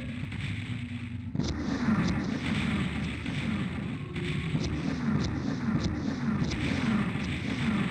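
Rocket launcher explosions in the video game Doom 64: heavy booming blasts, one sudden burst followed by a sustained rumbling roar with repeated thuds, loud and close.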